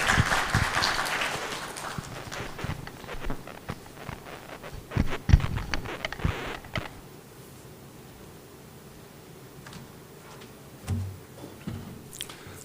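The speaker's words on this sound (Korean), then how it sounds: "여러분 박수해 주세요." A church congregation at a Sunday morning Methodist service claps in a burst that swells, then thins out into scattered claps and rustling, fading to quiet with a few stray sounds near the end.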